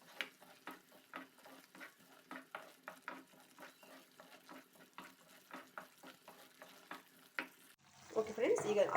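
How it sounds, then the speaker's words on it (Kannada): A spicy egg masala mixture with leftover rice is stirred in a pan, giving a run of rhythmic spatula taps and scrapes before a louder burst of frying sizzle at the end. "ಅದು ಹಸಿ ಸ್ಮೆಲ್ ಹೋಗುವವರೆಗೂ ನಾವು ಫ್ರೈ ಮಾಡ್ಕೊಳ್ಬೇಕಾಗ್ತದೆ."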